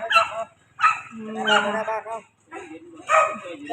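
A dog barks in repeated hoarse, yapping bursts close by, with a whimpering whine between barks, from a dog guarding its territory near a shop.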